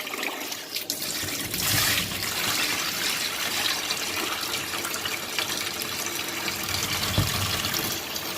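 Water runs and splashes into a bowl as rice is rinsed, a steady trickling gush with brief sloshes, close and fairly quiet, with no one speaking.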